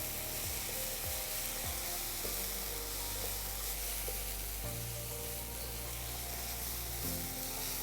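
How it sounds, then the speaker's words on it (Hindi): Onion, ginger, green chili and garlic paste fries in hot oil for South Indian rasam vada, giving a steady, close sizzle with a few stirring scrapes and no voices. "और ये जो प्याज, अदरक, हरी मिर्च, लहसुन का पेस्ट बनाया था, इसे भी डाल देंगे। इसे 1 से 2 मिनट भूनेंगे।"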